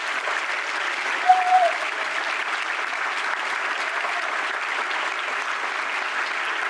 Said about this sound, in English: Please join me in a round of applause for these outstanding College of Liberal Arts and Science students